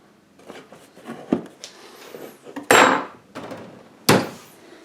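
A chisel works in a woodshop, cleaning up wood on the plastic housing of a Honda snowblower hour meter: a run of close, uneven scraping and knocking strokes with a few sharper, louder hits.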